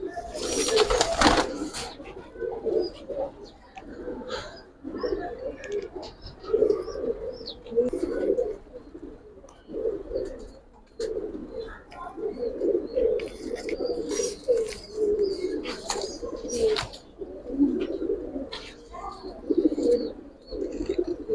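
Giribaz pigeons, including silver kaldam, coo in low rolling calls throughout, close and repeated, with occasional chirps and wing flutters while people talk nearby.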